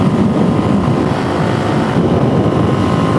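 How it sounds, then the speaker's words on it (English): Strong wind roars steadily and loudly across the microphone while a DRZ motorcycle rides in cold weather, a dense, continuous rush with the engine blended underneath. "wind is absolutely blasting out of the north"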